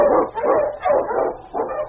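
Barking of King, a husky and Eskimo lead sled dog in a Yukon radio drama: four loud, close bow-wow barks in a steady rhythm, with no talking over them.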